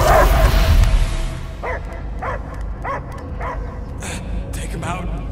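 Repeated dog barks from a Guardians of the Galaxy video game, a series of about six sharp, evenly spaced yips and barks at moderate distance over a low rumbling game soundscape, after a louder burst of background noise at the start.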